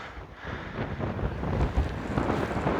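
Steady wind buffets a shielded microphone at a daytime volcanic eruption site in Iceland, a continuous low rushing roar that slowly grows louder, with no voices.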